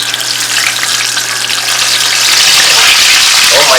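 Split green chilies deep-frying in hot oil for homemade samosas, a loud, close, continuous hissing sizzle that swells toward the end, with a faint voice underneath.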